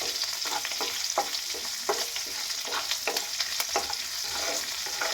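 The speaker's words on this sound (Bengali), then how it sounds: "এবার সব কিছু ভেজে নেবো ভালো করে" Chopped green chillies and other ingredients for semolina upma fry in a pan with a constant sizzle, punctuated by brisk, repeated spatula stirs and scrapes at a quick, uneven rhythm; close and moderately loud, with no speech.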